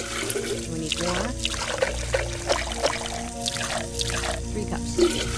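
Water pours and trickles from a running tap into cups nearby, a steady splashing stream with a few brief bumps and no speech over it.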